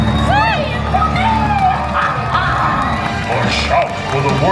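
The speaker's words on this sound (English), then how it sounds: "Cheer for me! Louder! More!" A theme park show crowd cheering and screaming, loud continuous shouting and whoops close around, dense and sustained.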